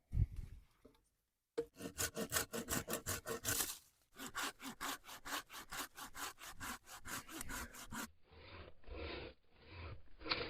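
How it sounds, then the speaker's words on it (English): Folding saw cutting wood branches at a camp, close rhythmic rasping back-and-forth strokes in several bursts separated by short pauses. "we're gonna trim these things up with the folding saw"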